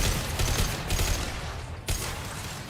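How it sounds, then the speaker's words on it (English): Rapid impact-shot gunfire from a Mass Effect battle, a loud run of clustered shots and bursts with a sharp crack near the end, heard over steady combat noise without speech. "Firing an impact shot."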